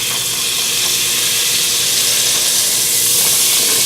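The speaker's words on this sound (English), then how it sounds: "This is unsalted, all natural butter. And I'm going to get this melted down." Unsalted butter melts in a hot pan with a steady, close, full sizzle and hiss, holding an even level throughout with no voices.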